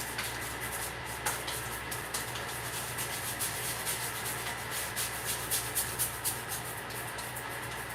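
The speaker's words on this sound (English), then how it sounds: "I now apply it to my face." Shaving cream rubbed onto a bearded face by hand, a soft, continuous close-up squishing and rubbing with faint rhythmic strokes.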